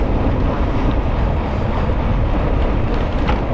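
Strong wind buffeting a microphone while cycling outdoors on a cold morning, a loud, constant rushing roar that fills the clip with no speech.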